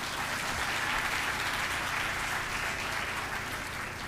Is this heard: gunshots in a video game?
no